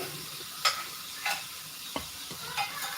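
Onions and mushrooms sauté in a pan, with a soft, steady sizzle broken by several sharp scrapes of a spoon stirring them, close and fairly quiet.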